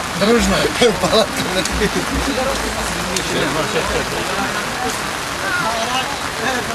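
Steady rain falls outdoors during a kuresh belt-wrestling bout at a Sabantuy festival in Domodedovo, a dense continuous hiss with people talking over it throughout.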